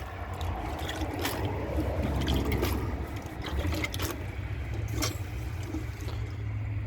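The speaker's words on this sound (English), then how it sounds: "I'll have to just scoop water from the tank onto the paper to get it wet" Water scooped by hand from a shallow toilet tank and splashed onto paper, a steady wet trickling and sloshing wash with a few brief splashes, close and fairly quiet throughout.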